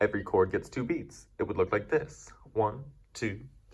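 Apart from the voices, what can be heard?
No everyday noise stands out behind the speech.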